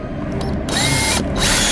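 A power drill pre-drilling holes in sensors: two short high-pitched whirring bursts with a brief pause between them, loud and close over clattering handling noise, with no talking.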